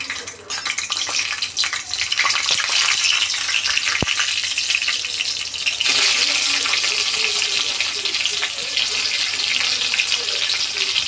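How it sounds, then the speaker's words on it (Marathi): Cumin seeds sizzle in hot oil for a bitter gourd stir-fry, a steady crackling hiss close by that continues throughout, with a brief clink partway through. "ते तापले, आता जिरं टाक."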